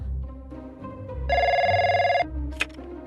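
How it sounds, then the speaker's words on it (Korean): A telephone rings in the Trickcal Revive mobile game: one steady electronic ring burst lasting about a second, with a short chirp after it, alongside soft background music. "클로에, 갑작스럽게 전화해서 미안."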